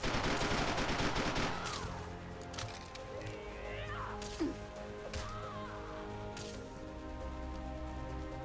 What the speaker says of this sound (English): Suppressing fire with candy canes.